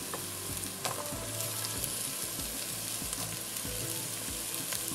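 Peppers hit a hot frying pan of chili con carne and sizzle with a continuous, close crackle, broken by occasional scraping stirs.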